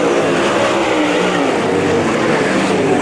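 UMP modified race cars roar around the Merritt Speedway oval, a loud, continuous blend of several engines revving and droning as they pass nearby, with no talk.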